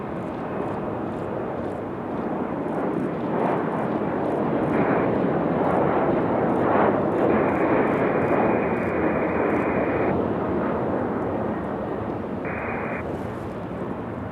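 A JetBlue jet taxiing at Raleigh-Durham International Airport, a steady broad engine rumble and hiss that swells slightly midway, with brief higher tonal whines, continuous and fairly close.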